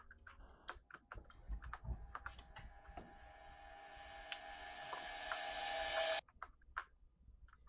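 Computer keyboard keys clatter in quick irregular bursts, quiet and close, with a rising electronic tone building underneath before cutting off.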